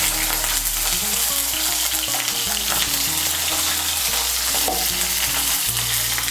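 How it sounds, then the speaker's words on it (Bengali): Diced medium brinjal (eggplant) frying in hot oil, a loud, dense, continuous sizzle close by, with occasional stirring clatter and no talking. "এই তেলের মধ্যে আমি বেগুনটা ভেজে নেব।"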